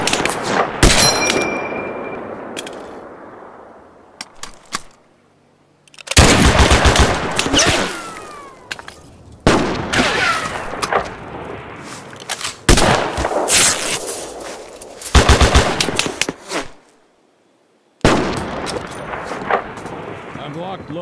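Video game gunfire from Mud and Blood, a World War II battle near Aachen, comes in dense bursts of rifle and machine-gun shots and explosions, loud and repeated, broken by brief silences, with game voices shouting commands.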